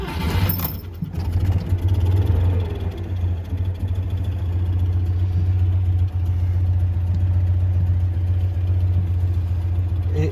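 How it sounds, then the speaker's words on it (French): A 1981 Citroën 2CV6 Charleston engine fires up, with a brief louder burst near the start, then settles into a steady, close, continuous idle that holds for about nine seconds with no talking. "au démarrage de cette auto"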